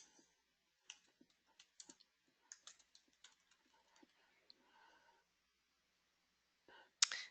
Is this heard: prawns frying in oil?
no